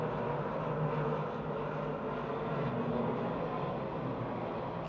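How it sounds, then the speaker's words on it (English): Race car engines on an oval speedway in Pittsburgh, Pennsylvania, a steady, dense roar from a distant pack of cars with engines held at high revs, continuous and loud throughout without voices. "Rouget's got the RPMs wound up on the outside."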